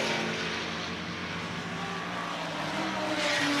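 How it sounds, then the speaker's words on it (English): A red AC Cobra race car engine roars loudly and steadily nearby at Lavant, a harsh sustained growl that swells slightly toward the end, with no voices. "noise of that red Cobra is pretty fantastic out of Lavant, isn't it?"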